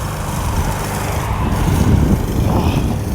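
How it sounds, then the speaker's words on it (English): A lawn mower runs steadily while a man mows grass at a residential property in North Myrtle Beach. The low engine drone is continuous and moderately loud, swelling slightly midway, with no talk over it. "Gentleman mowing."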